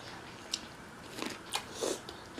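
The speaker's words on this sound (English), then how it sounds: "Let me do a cucumber right quick." Someone bites into and chews a cucumber during a spicy-sauce mukbang, with a few close, crisp crunches and wet chewing spread over a couple of seconds.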